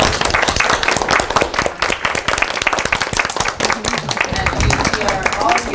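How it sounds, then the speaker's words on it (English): Audience applause at a lecture on New York City English, with a steady, dense crowd clapping that is loud and close and keeps going throughout, and some talk underneath. "if I could just ask everyone to applaud her"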